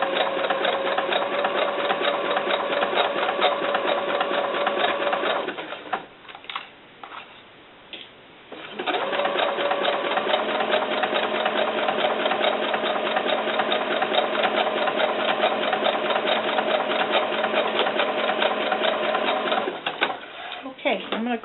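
A sewing machine stitches fabric for a doll cover up with a steady, close mechanical whirring that stops for a few seconds partway through and then runs on to the end.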